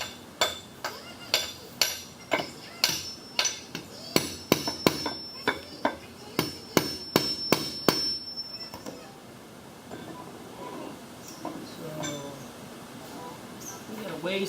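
A hammer strikes a part on a New Idea 5408 disc mower to seat it, about twenty sharp metallic blows in a steady rhythm, each ringing briefly, then quieter shop noise follows.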